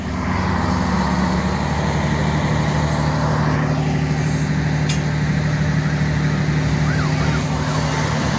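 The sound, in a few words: train siren sounding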